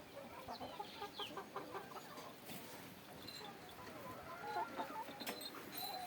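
Free-range country hens and a large rooster clucking in a farm shed, with scattered close clucks and bird calls over steady barn ambience.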